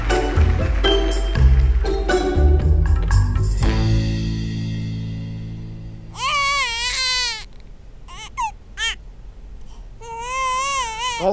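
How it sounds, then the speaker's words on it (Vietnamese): A baby wails in several loud, rising-and-falling bursts with short breaks, following a stretch of music and background noise at the start, in a Vietnamese comedy sketch set in a neighborhood. "Con cái nhà ai mà khóc ồn quá."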